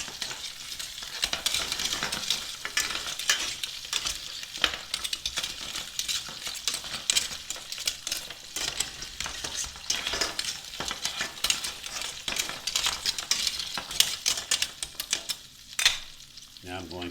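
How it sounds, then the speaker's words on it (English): Big little neck clams stirred in a sizzling pan, shells clattering and scraping against the metal in an irregular rhythm over a constant close fry. "add our clams to the pan here. These are pretty big little neck clams."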